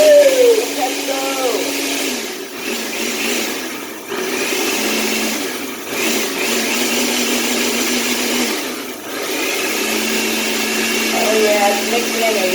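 A blender whirs through cannabis pesto of garlic, olive oil, basil and pine nuts, a loud close motor roar that dips and surges in several pulses with voices mixed in.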